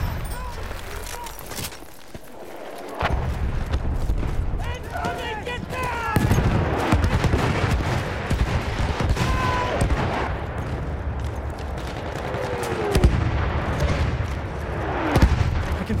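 Distant artillery barrage and scattered gunfire rumble through a World War I Battlefield match in the Argonne Forest, with repeated booms and crackling shots over a dense battle din, broken by a brief lull near the start.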